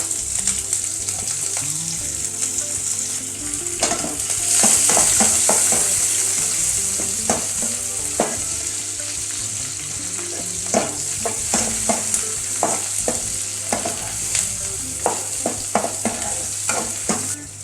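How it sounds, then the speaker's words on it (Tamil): Curry leaves and onions fry in a pan with a steady sizzle, punctuated by sharp scrapes and clacks of a spoon stirring against the metal, close and continuous. "இதுலேயே கருவேப்பிலை போட்டுக்கலாம். வெங்காயம் போட்டுக்கலாம்."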